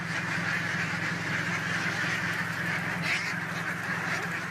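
A flock of farm ducks quacks continuously in a rice paddy, with dense overlapping calls at a steady, fairly loud level and no talk.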